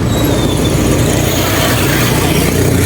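A motorcycle engine runs steadily and loud during a ride to Lucban, a constant rumbling drone with broadband noise and no talk over it.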